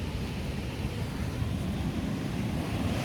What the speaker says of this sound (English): We are right now at Indian Ocean